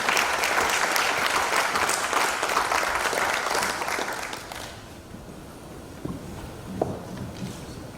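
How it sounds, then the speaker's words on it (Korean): A seated audience claps to welcome a foundation chairman at a university vision ceremony, a full steady round that fades out after about four seconds, leaving a quieter room with a few scattered footsteps and knocks. "박수로 환영해 주시면 감사합니다."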